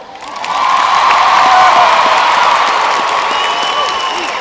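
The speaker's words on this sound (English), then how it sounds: "clap if you want the exciting one" A comedy show audience in Atlanta breaks into loud, sustained clapping and cheering with whoops, swelling in fast and holding steady before easing slightly.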